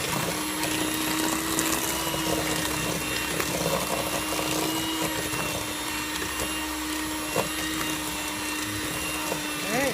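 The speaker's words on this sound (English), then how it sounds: "Now I'm going to incorporate my dry ingredients in right after I mix in the egg and vanilla." An electric mixer whirs steadily as it blends egg and vanilla into sugar cookie dough, a continuous motor hum with a clattering edge running without pause.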